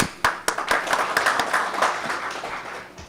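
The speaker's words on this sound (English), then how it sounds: "Please give them applause" A conference audience at an international media conference inauguration ceremony claps warmly, with a few sharp, distinct hand claps standing out over a steady patter that tapers slightly toward the end.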